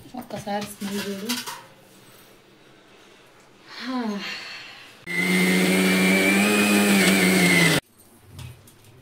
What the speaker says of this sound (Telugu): ఇట్లా వేసుకోవాలి మిక్సీ